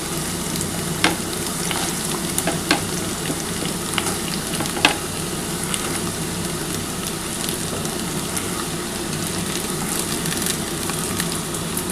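Ridge gourd and potato pieces fry in a pan for jhinge aloo posto, a Bengali vegetarian dish, giving a steady, close sizzle with occasional sharper crackles and stirring scrapes throughout.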